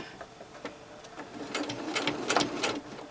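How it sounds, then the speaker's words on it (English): A sewing machine stitches binding onto a slipper in short, uneven bursts of rapid stitching, close and fairly quiet, growing busier toward the end with no talk over it. "I'll stitch it now"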